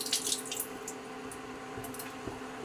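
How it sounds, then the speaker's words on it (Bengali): Water pours into a pan of rui fish curry with potatoes, a faint continuous trickle and splash close by, with no talking. "আর একটু জল দেওয়া, আলুগুলো ভালো করে সিদ্ধ হয়ে যাবে"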